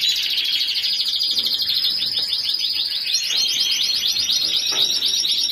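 A yellow male Spanish timbrado canary sings indoors in a cage, a loud continuous run of rapid trilled and rolling phrases, close to the microphone and heard alone.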